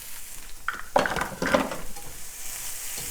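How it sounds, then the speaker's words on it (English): Vegetables including celery clatter and sizzle in a pan as they are stir-fried, with scraping and a few louder metallic knocks near the start, close and moderately loud. "start stir frying up all the vegetables"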